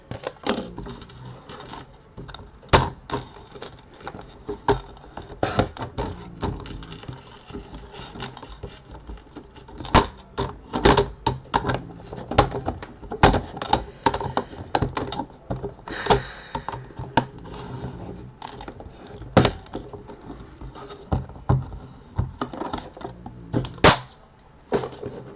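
A stamped piece of card is cut by hand, producing a long run of small, irregular crisp snips and clicks, close and fairly quiet, with short pauses between bursts.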